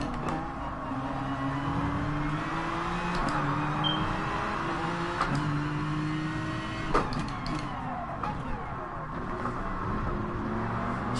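A Porsche 911 GR3 race car in Gran Turismo Sport at Circuit de la Sarthe, its engine droning steadily as it closes in, with rising pitch sweeps from gear changes, all under continuous racing noise.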